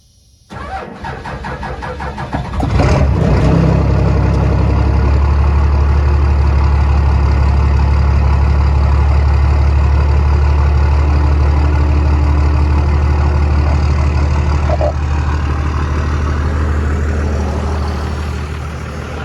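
A 12-valve Cummins diesel in a truck with S480 and HE351 compound turbos cranks briefly, fires and revs, then settles into a loud, steady, rumbling idle close by on a roughly 60-degree day, no voices.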